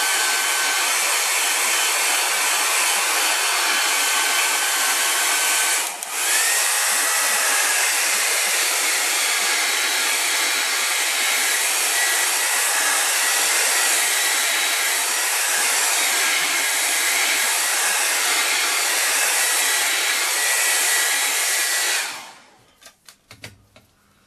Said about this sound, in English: excuse the hair dryer